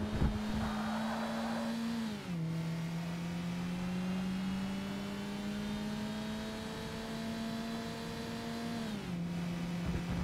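A racing car's engine drones steadily and loudly throughout, with pitch dipping at two gear shifts, as an Audi TT presses from behind in the Forza Motorsport racing game.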